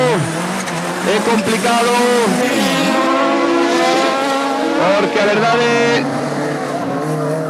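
An autocross race car at Arteixo revs hard around the track, its engine loud and close, rising and falling through gear changes, while a commentator talks over it.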